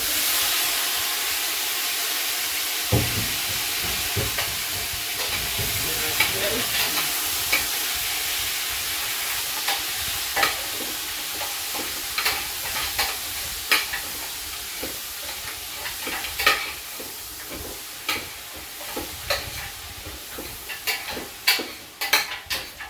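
Meat drops into hot oil in a pot and sizzles with a steady, loud hiss, broken by repeated scraping and stirring clinks against the pot that grow more frequent; no talking.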